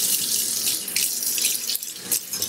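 Tap water runs steadily into a sink while a knife is washed, a loud close hiss with slight splashing shifts as the blade moves under the stream, no voices.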